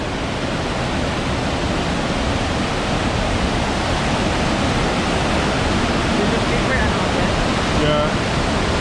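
Powerful waterfall roaring after a storm, a loud, dense and steady rush of falling water that fills the whole clip without any break.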